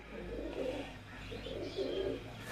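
A Tiger breed pigeon coos softly nearby in two low, rolling phrases separated by a brief pause, set against faint background hum.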